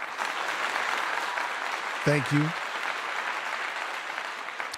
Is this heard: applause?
yes